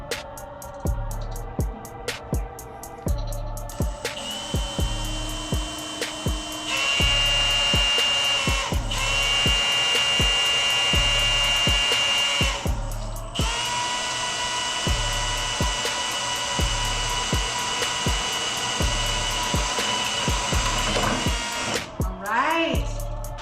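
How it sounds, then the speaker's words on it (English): A power drill bores two holes in a Moke to mount bull horns, its whirring motor rising and holding in long sustained runs with brief pauses, set against a rhythmic background beat. "We're gonna drill out 2 holes here so we can mount our horns on there."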